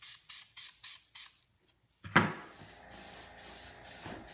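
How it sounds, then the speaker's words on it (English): Short rhythmic bursts from a spray can applying a clear flat coat to masked prop rifle parts, followed after a pause by a longer hissing spray, close up and fairly quiet. "Now that's going to get hit with a coat of clear flat to seal the edges of the tape."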